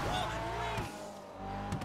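Car tires squeal while drifting in a street-racing video game, a sustained screech under engine noise with another brief squeal near the end and talk over it.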